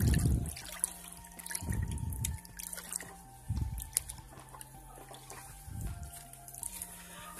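Cooked rice being stirred into a compost decomposer liquid, giving several wet sloshing and trickling bursts with soft drips in between, close by and fairly quiet, with no talking.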